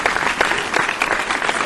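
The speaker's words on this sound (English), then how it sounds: "Another round of applause for the Raven." Applause from a crowd at a fantasy footy show, a short dense patter of clapping heard alone at steady moderate loudness.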